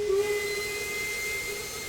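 A steam locomotive whistle in the Spirit of Steam train simulator, on The Manxman service from London Euston to Liverpool Lime Street, blows one long steady tone over a soft hiss of steam.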